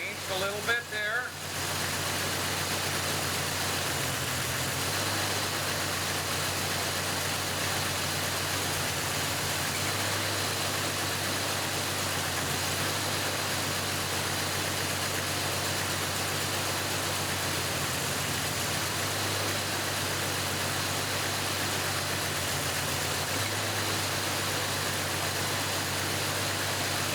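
A car engine idles steadily and slightly rough under a constant drone, with no talk, held up for a power balance test while ignition voltage above 180,000 volts is applied.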